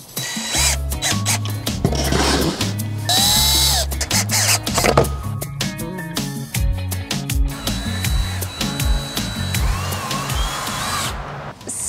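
Power drill boring pocket holes into the ends of wood boards, repeated loud whining bursts of varying pitch with clicks and clatter of handling between, close up.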